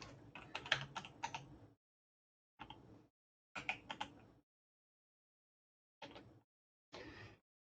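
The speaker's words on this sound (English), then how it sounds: "I'm going to type it out." Someone types on a computer keyboard in quick bursts of close key clicks, separated by silent pauses, with no talking.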